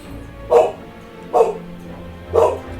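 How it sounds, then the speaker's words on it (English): A pet dog barks three separate times indoors, each bark short and moderately loud with quiet pauses between, heard from somewhat off to the side with no talking over them. "My dog is barking again."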